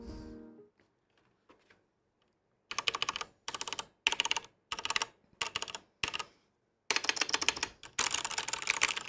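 Rapid clacking keystrokes on a mechanical keyboard come in several close, loud bursts separated by short pauses, with no voices.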